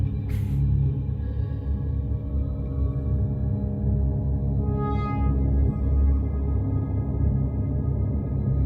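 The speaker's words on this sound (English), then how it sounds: "So I switched to a high-pass white noise." Steady, dense hiss of high-pass filtered white noise from a Eurorack modular synth, with resonant ringing tones and a brief bright burst near the start; no voices.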